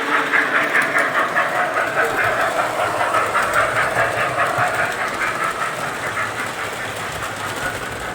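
A Lionel model train runs on a hobby-shop layout, a loud close rolling rumble with rhythmic clickety-clack from the wheels that fades slightly toward the end.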